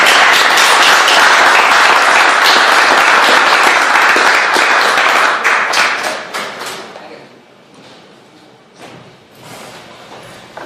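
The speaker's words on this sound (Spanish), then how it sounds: "voy a invitar a que lo reciban con un muy fuerte aplauso al profesor Carlos Pérez Soto" Loud audience applause for professor Carlos Pérez Soto, dense clapping for about six seconds, then thinning to scattered claps and fading out.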